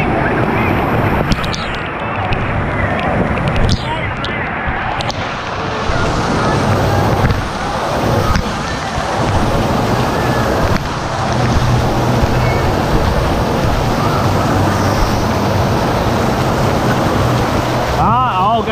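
Waves surge and churn continuously at a US water park wave pool, a broad rushing wash with wind buffeting the microphone, while people talk over it.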